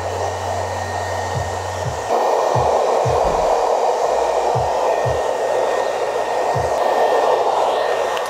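A hair dryer blows hot air onto a man's curly hair during styling after a haircut, giving a loud, continuous close-up whoosh, with occasional soft knocks and handling sounds beneath the steady airflow.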